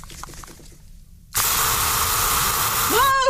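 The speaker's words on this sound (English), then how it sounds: "Give it a good spray." An aerosol can gives one loud, sustained hiss of spray close by, cutting in after a short stretch of faint sound and running to the end, with a brief squeaky sound near the finish.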